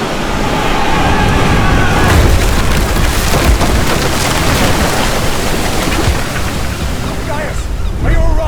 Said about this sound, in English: They're headed straight towards us. They're gonna ram!